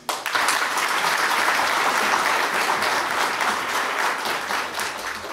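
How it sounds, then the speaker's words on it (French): Sustained crowd applause at a political speech in a hall, starting abruptly and continuing as dense, loud, even clapping from a large audience throughout. "Je demande qu'on les applaudisse."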